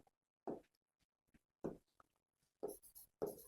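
Chalk or marker writing on a classroom board during a physics lesson, several short scratchy strokes in bursts separated by silence, close and clear with no speech.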